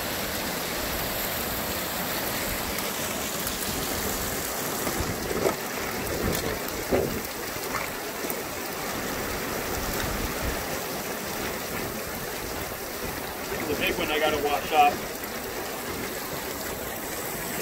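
Water rushing steadily through a gold mining sluice as mud is washed down it and small rocks tumble out the end, a continuous broadband wash with a few louder splashes and gritty knocks near the end.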